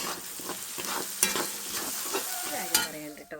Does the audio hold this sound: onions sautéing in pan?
yes